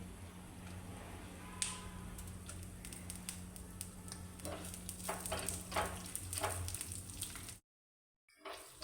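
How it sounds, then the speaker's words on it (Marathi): Two chillies and chana dal fry in hot oil in a pan, giving a soft, steady sizzle. Light taps and stirring scrapes sound over a low background hum, and then the sound cuts out. "त्यामध्येच त्या हरभऱ्याच्या डाळीबरोबर मी या 2 मिरच्या टाकते"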